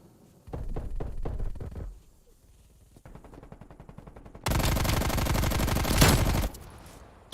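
Video game gunfire comes in loud bursts: a short volley, a pause, a quieter rattling stretch, then a long sustained rapid burst of automatic fire that cuts off near the end.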